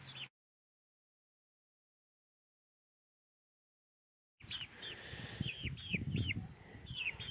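Chickens in a garden cluck in short repeated calls after a long silent gap, close and moderately loud, with some low rustling beneath.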